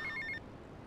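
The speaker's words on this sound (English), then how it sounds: "we're gonna wait for a phone call" A phone in Grand Theft Auto: Vice City rings for a mission call, giving three quick electronic trill bursts in steady rhythm before falling silent.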